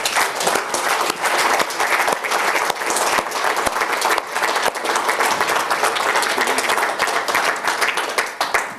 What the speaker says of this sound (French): je vous demande d'applaudir Jacques Seguela